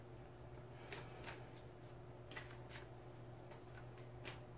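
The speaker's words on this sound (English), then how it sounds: "These decks shuffle better than others." A deck of oracle cards is shuffled by hand, giving soft papery riffling bursts that repeat in uneven pairs over a low steady hum, quiet and close, with no talking.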